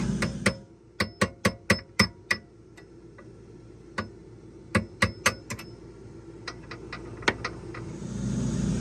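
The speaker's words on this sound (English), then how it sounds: "we just tapped on it ever so slightly with a hammer, and it's loose now" Sharp metallic taps from a hammer on a metal nut during a motorhome slide repair, struck in quick bursts of several blows with short pauses between, followed by a low rumble near the end.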